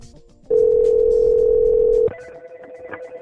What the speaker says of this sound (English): let's make another phone call